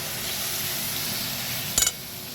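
Chicken masala and a splash of water cook in a pan for an egg curry, giving a steady, close hissing sizzle, broken near the end by a brief sharp clatter.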